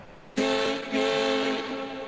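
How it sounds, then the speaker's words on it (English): An arriving train in the Escape from Tarkov video game sounds its horn, a loud sustained multi-tone blast that cuts in abruptly, briefly dips, then resumes and holds steady with no talking. "A good train noise."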